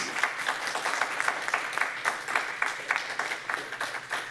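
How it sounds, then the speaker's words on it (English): An audience at a poetry reading and author Q&A claps steadily in warm, sustained applause, moderately loud with a quick, even rhythm and no voices over it. "How about another round of applause?"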